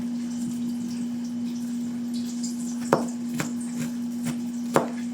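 A large kitchen knife chops on a board while cooking eggplant, three or four sharp, isolated knocks spread over a few seconds above a steady electrical hum.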